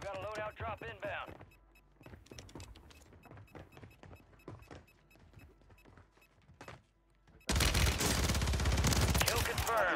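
Automatic gunfire from the Warzone video game on Rebirth Island, rapid bursts and scattered shots under excited player voices, ending in a loud, dense stretch of continuous firing.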